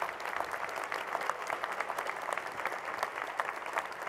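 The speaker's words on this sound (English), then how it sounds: "One more round of applause" At an awards luncheon, a crowd breaks into dense, sustained applause as many hands clap at once, steady and fairly distant throughout.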